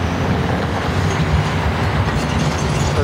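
An older tram in Łódź rattles steadily while riding, a loud continuous rumble with dense clattering from wheels and carriage, no voices over it.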